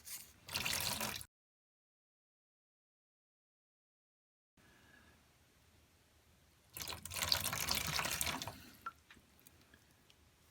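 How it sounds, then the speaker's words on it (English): Hot water runs from a sink tap while carbon-fouled pistons from a 2010 Taurus SHO are cleaned, heard as a short burst of flow, a silent gap, then a longer gushing stretch with drips, close and without talk. "It's way easier to get it off with hot water just from the sink."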